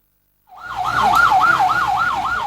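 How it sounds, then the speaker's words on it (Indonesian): A military (TNI) ambulance siren wails in a steady rising-and-falling cycle, loud and close, starting abruptly after a brief silence and continuing over a low engine rumble at a funeral procession arrival. "Gung Daniel datang menggunakan ambulans TNI dan dikawal personel TNI"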